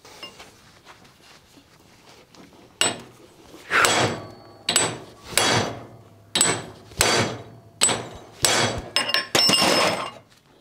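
Heavy hammer blows strike a metal part from a JUMZ tractor to straighten it, about ten loud ringing impacts in an uneven rhythm after a quiet start.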